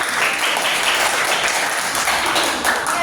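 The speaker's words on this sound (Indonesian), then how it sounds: "kasih tepuk tangan dulu" A classroom of students claps together in a dense, loud round of applause that runs steadily for several seconds.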